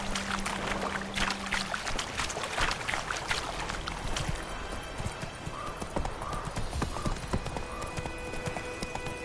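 A horse galloping in a video game, with quick rhythmic hoof clip-clops over a busy layer of game ambience and effects, steady and fairly loud throughout.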